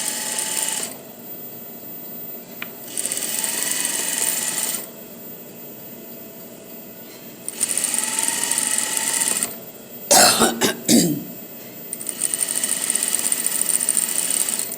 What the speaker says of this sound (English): and then sewing right in the middle